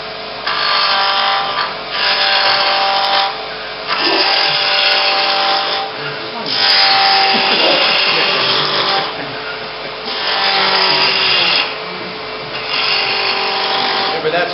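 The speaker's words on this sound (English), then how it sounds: "So we'll make this round with the spindle gouge." A spindle gouge cuts a roughly 2-inch wood block round on a lathe, turning it for a bud vase. The scraping, hissing cuts come in several sustained bursts with brief pauses between them, steady and close.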